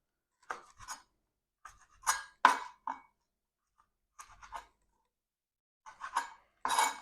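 Cooked carbonara ingredient, most likely the fried meat, being cut in a pan with a utensil, giving short scraping and clinking strokes in small bursts with brief pauses between them, close up and fairly quiet.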